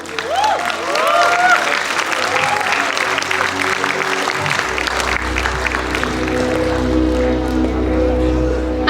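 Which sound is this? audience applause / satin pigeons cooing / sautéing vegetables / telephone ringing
audience applause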